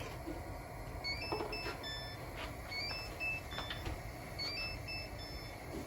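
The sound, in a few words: kitchen timer beeping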